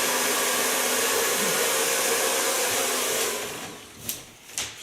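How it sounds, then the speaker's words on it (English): Hair dryer blowing on very wet short hair, a steady loud whooshing roar that fades out near the end, followed by a couple of soft handling clicks. "So far blow drying."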